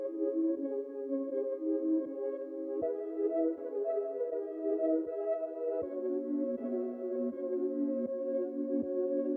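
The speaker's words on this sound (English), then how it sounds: "So threw this preset on, all are completely stock FL plugins." Nostalgic music sample run through stock FL Studio plugin effects and pitched up six semitones, giving dense, sustained chords that shift every few seconds, with soft rhythmic clicks underneath and a steady level throughout.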